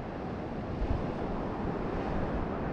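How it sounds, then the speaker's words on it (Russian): Rough sea waves crash steadily against the shore along a Turkish coast, a loud continuous wash of surf with wind buffeting the microphone and no voices. "волна очень сильная, в берег бьет"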